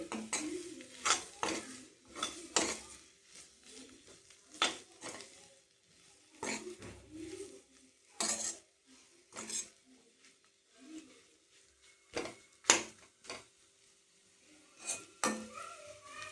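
Potato fry being stirred in a pan after a sprinkle of coriander powder: a spatula scrapes and clinks against the metal in irregular bursts, close and fairly quiet, with no talking.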